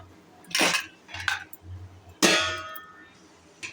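Metal spoon clanks and scrapes against a steel pot while curry is stirred, followed by a sharp lid clang as the pot is covered, then a faint final clink; close and fairly loud, no talking.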